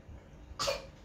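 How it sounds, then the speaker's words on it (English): A child gives a single short cough, faint and close, standing alone against quiet background. "And cough. I cough like that."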